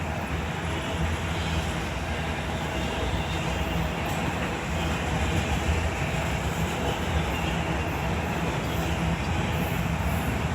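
A CSX train with a distributed power unit locomotive rolls past, a continuous loud rumble and rattle of rail cars sustained evenly throughout, close by and with no voices.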